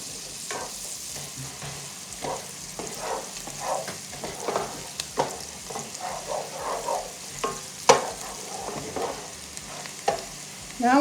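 Celery and Vidalia onion sauté in a pan for chicken pot pie, a steady low sizzle broken by repeated scraping stir strokes, close and moderately loud, with no talking.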